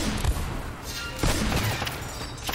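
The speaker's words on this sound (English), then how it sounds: "Who else is shooting?" Rapid bursts of gunfire ring out in the video game Uncharted: Drake's Fortune, several sharp shots and booms layered over loud continuous game action noise.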